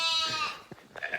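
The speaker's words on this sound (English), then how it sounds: "Hear some sheep in the background" A sheep bleats loudly in a long wavering cry, followed by a couple of shorter, fainter bleats from livestock in the background.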